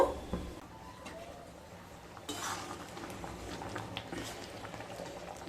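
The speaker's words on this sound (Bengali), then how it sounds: "আবারও লো টু মিডিয়াম স্টিমে 10 মিনিট রান্না করে নেব।" Moong dal with cauliflower, green chillies and coriander simmers in a pot over low to medium heat, giving a steady soft bubbling hiss with a few faint clinks of utensils, close by and without talk.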